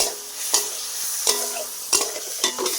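Egg and potato curry is stirred and fried in a pan over a village cooking fire, with a steady sizzle broken by repeated scraping strokes of the spatula, close and clear.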